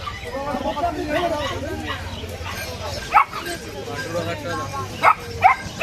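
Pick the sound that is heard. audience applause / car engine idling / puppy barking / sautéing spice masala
puppy barking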